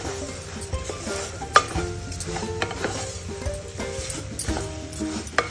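A semolina and sugar mixture is stirred in a pan, the spoon scraping and clinking against the metal in irregular strokes, with a sharp knock now and then, close by and without talk.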